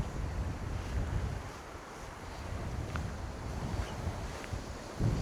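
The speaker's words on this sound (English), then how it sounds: "I just wish this wind would die off." Wind gusting on the bank of the River Tweed while fly fishing for brown trout, a steady rough rumble of wind buffeting the microphone that swells and eases, with no voices.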